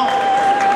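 Audience applause at a funeral service, a brief burst of dense, steady clapping from a gathered crowd, loud and close, with no talk over it.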